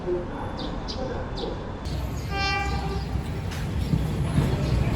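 Rumbling local train at a station in Thailand with a horn and faint chirping birds, then a rising drone and a metallic tonal whine as the train moves along a platform.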